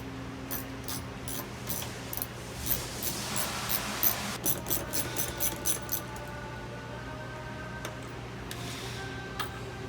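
Ratchet tightening nuts onto shock through bolts on a Jeep Gladiator bed rack install, quick clusters of light clicks at close range, irregular bursts over a low background hum.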